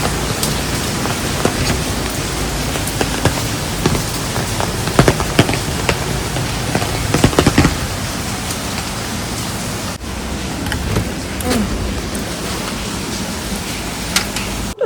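Heavy stormy rain pours down steadily and loudly, a dense, unbroken hiss that fills the whole stretch with scattered sharper patters.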